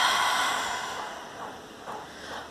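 A long, breathy exhale through the mouth, imitating the hiss of the sea, fading gradually, with a few softer breaths after.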